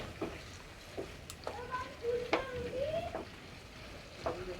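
A potato curry is stirred and sautéed in a pan: a soft, steady sizzle runs throughout, broken by intermittent scraping strokes and a few brief tonal squeaks.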